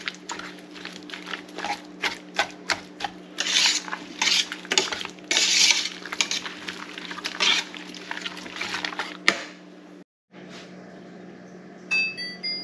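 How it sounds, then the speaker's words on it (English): Strawberry jam mixture stirred in a pot, with a run of close clinks and scrapes of a utensil against the pot, some bursts louder and busier, then a brief gap of silence before a few light knocks. "Okay, so we're just going to stir this in."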